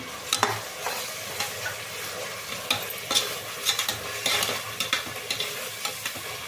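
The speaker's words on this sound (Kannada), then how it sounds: "ಇದೆಲ್ಲ ಹಸಿ ವಾಸನೆ ಹೋಗೋವರೆಗೂ ಚೆಂದಾಗಿ ಫ್ರೈ ಆಗಬೇಕು" Ground mint, coriander and green chili paste frying in oil in a pan for chicken pulao, with continuous sizzling and repeated scraping stirs of a spoon, close and moderately loud, no voices.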